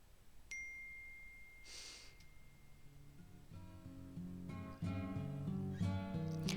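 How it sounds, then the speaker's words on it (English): A single bright phone message ding rings out in a visual novel game, a sharp tone with a lingering ring, followed by a short whoosh and soft game music that swells louder. "My eyes slowly drift open to the sound of my phone."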